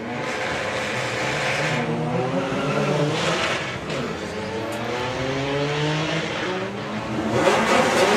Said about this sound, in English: Rob Carter's way out in front